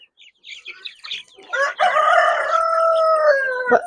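Close chickens clucking around a feed container among young cockerels, followed by a loud, drawn-out rooster crow lasting a couple of seconds.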